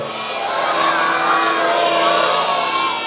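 Crowd at a devotional gathering shouting a loud jaikara cheer together, a sustained massed roar of voices that swells and holds for a few seconds, close and loud.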